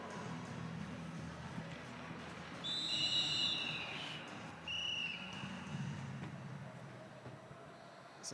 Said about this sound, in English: The ref has blown the whistle.